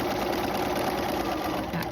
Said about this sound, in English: When I get down to the bottom of my bag where my fold is, I'm going to back stitch just 1 or 2 little stitches.